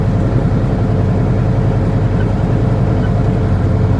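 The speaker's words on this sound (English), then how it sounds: "with the engine brake full blast" Semi truck in fifth gear descending a steep grade with the engine brake at full, a loud steady low rumbling drone that holds constant throughout without a break.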